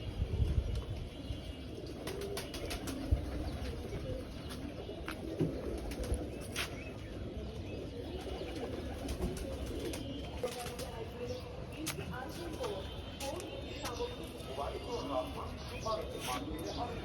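Pigeons coo and flap their wings on a rooftop garden, a soft, steady outdoor background with faint chirps and occasional wing bursts, while people talk nearby.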